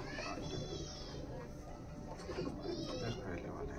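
Andhra (Madras) pigeons coo softly in a loft, low throaty calls rising faintly behind someone talking nearby, with some distant background chatter.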